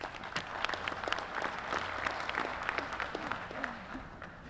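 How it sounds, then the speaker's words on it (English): Applause for staff fills a hall at a Louisiana municipal association convention, many hands clapping steadily and densely throughout, loud and sustained without pause. "Please give them a round of applause."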